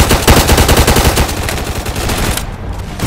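Rapid automatic gunfire from the Roblox game Zombie Uprising rattles out in a loud, close burst of evenly spaced shots that thins toward the end.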